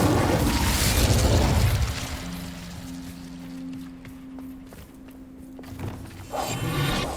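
Incendio fire spell cast in the Hogwarts Legacy video game: a loud roaring whoosh of flame bursts up, then fades into low droning tones, with a second fiery burst rising near the end.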